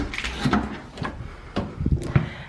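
A house's back door opens at a new, empty home, giving a few soft knocks and clunks from the latch and frame, close by and moderately loud, with no talking.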